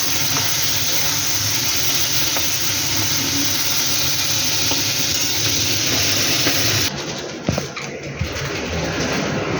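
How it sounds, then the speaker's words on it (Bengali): Flat beans frying in hot oil in a Bengali kitchen, a steady loud hiss that runs unbroken for most of the clip and then drops away near the end. "লাল লাল করে সিমটা ভাজা হোক"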